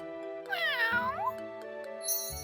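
A kitten gives one clear, drawn-out meow with a rising and falling pitch, close by, over a steady background hum.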